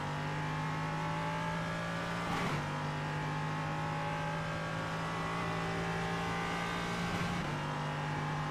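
A GT4 race car engine in the iRacing simulator holds a steady, loud, droning note throughout, with two brief shifts or bumps along the way and no speech.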